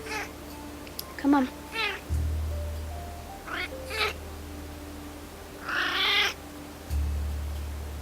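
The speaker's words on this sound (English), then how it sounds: "She's a Bengal leopard cat. She's quite loud." A Bengal cat meows loudly several times in short bursts, close by, while a person speaks briefly and low thumps sound in the background.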